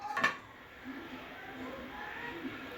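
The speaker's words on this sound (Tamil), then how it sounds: "இதை ஒரு மூடி போட்டு மூடி வச்சுக்கலாம்." A lid is set onto a cooking pot of appalam poo gravy with a single quick clink near the start, followed by a quiet kitchen hush.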